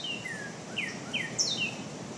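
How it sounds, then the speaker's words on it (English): Birds in loblolly pines at a Texas bayou give a few faint, thin, high chirps and whistled notes over a soft, steady outdoor hiss. "Birds I never hear at home sing in the loblolly pines."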